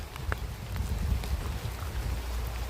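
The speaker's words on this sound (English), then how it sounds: "and it is raining." Steady rain falls in Peninsula Woods as a soft, continuous hiss with scattered patters and drips close by.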